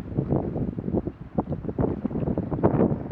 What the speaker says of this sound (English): Hopefully the wind doesn't interfere